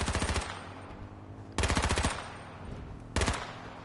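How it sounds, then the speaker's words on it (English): Three short bursts of automatic gunfire in the game H1Z1, each a rapid close string of shots lasting about half a second, separated by pauses filled with a low rumbling background. "Keep on shooting."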